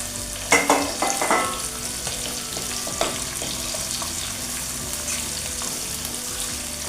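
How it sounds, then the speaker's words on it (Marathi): Onions frying in a pan for a jackfruit vegetable dish, a steady close sizzle with a few sharper crackles and scraping stirs near the start, no talking. "कांदे घालून घ्या त्याच्यापेक्षा जास्त कांदे वापरले तरी चालते"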